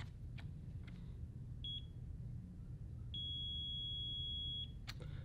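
A Waydoo Flyer One eFoil board gives short electronic beeps as its Bluetooth button is held: a brief chirp, then a longer steady tone, over a low background rumble with a few faint clicks.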